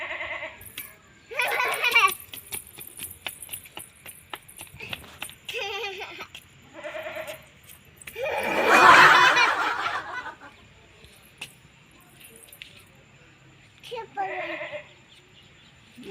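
A voice imitates a goat's bleat in several quavering calls, with one longer, louder bleat in the middle and short pauses between.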